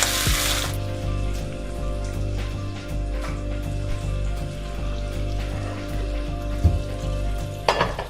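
Beef pieces sizzle steadily as they brown in a pan for miso ramen soup, a continuous close frying hiss with occasional clinks and stirring scrapes, plus a brief burst of running water at the start and end.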